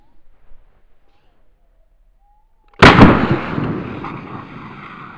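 A single sharp gunshot from a Smith & Wesson Model 317 revolver cracks loudly outdoors after near silence, then rings out in a long, fading echo.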